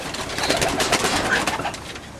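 Pigeons coo and flutter close by in a New Zealand loft of long-winged racing birds, their soft calls layered into a dense, steady chorus of overlapping birdsong and rustling.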